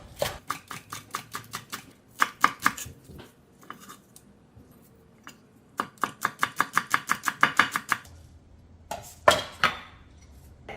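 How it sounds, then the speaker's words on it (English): Sharp knife chopping green onions on a cutting board, quick runs of crisp evenly spaced taps broken by short pauses, close and clear with no talking. "I'm gonna slice some green onions."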